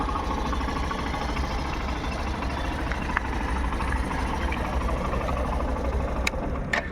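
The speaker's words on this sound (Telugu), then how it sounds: "ఇంజన్ ఇప్పటికి కూడా రన్నింగ్లో ఉంది చూడండి" A single-owner used Hero Glamour motorcycle engine idles in a steady, low rumble nearby, with a few faint ticks and clicks over the continuous hum.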